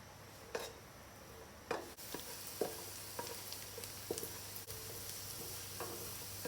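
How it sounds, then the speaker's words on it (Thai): Minced garlic sizzling in hot oil with a soft steady fry, punctuated by several sharp scrapes and stirring clicks of a utensil against the pan, fairly quiet and close. "นำกระเทียมสับมาเจียวก่อนครับ"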